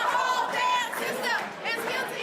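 Protesters, mostly students, chant in unison inside Madison City Hall, a dense crowd roar with rising and falling shouted phrases that fill the whole moment.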